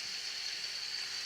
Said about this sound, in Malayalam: തക്കാളിയും കൂടെ അതിലേക്കിട്ട് നല്ല കണക്കിന് വഴറ്റുക